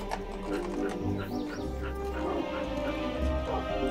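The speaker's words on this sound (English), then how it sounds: "There's so many dogs now." Dogs in the Roblox game World of Sourcery bark and whimper in short bursts over dense game music, close and fairly loud.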